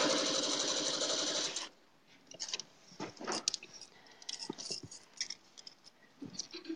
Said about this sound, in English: So you can see here that I'm chain piecing, so I just do one after the other